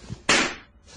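A balloon bursts with one sudden, sharp bang that decays quickly, heard alone and close.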